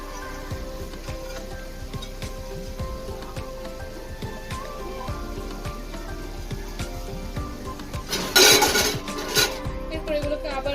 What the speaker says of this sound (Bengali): এটাকে কিন্তু ভাতেও সিদ্ধ করা যাবে না আর কম আঁচেও করা যাবে না, পুরো হাই হিটে এভাবে ভাজি করতে হবে